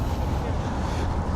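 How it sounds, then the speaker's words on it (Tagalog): Strong wind buffets the microphone along a seaside waterfront in downtown Vancouver, a steady low roar with no break across the short stretch. "Medyo nga mahangin nga."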